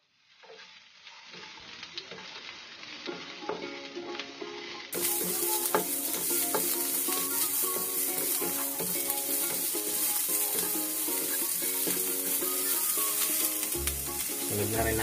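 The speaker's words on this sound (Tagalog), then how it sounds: "pag nag-brown na yung bawang, sunod na natin yung sibuyas." Garlic and onion sauté in a pan for a chayote-shoot and shrimp dish, a dense sizzle that grows louder a few seconds in and carries on steadily with light stirring sounds.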